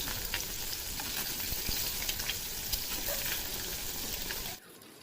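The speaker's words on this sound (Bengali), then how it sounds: "ডিমগুলো একটু একটু করে ভেজে নেবো।" Halved boiled eggs fry in hot oil with a steady, dense sizzle and crackle that runs loud and close for over four seconds, then drops away abruptly near the end.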